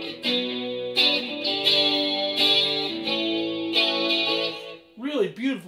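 A clean guitar tone played through a Headrush MX5 effects pedal, with sustained chords and rhythmic strums, followed briefly by a voice at the end.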